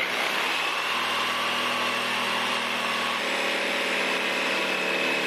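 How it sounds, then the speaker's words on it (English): A jigsaw cuts out a wooden form in a DIY workshop with a continuous, high-pitched motor whine and rasping blade, loud and unbroken throughout. "Now I'm going to take my jigsaw and cut out the form that I've made here."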